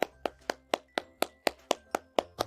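A boy applauding, about ten sharp, evenly spaced claps in a steady rhythm, close and clear with nothing else over them.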